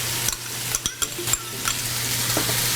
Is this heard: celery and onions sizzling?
yes